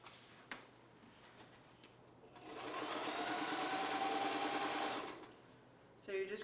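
A sewing machine stitches a fabric hem for a ribbon skirt in one steady run of about two and a half seconds, a close, even whirring between quiet pauses.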